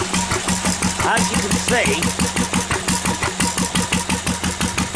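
A Lister diesel engine starts and settles into a steady, loud chugging run with a regular thumping rhythm, close up; someone talks briefly over it.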